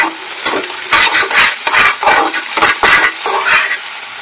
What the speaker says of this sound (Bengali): এটাকে ভালো করে আমি এভাবে ফ্রাই করে নেব